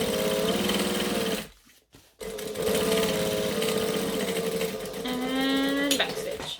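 A sewing machine runs fast chain-stitch top stitching in rapid, even bursts, breaking off briefly partway through before whirring on again, close and clear.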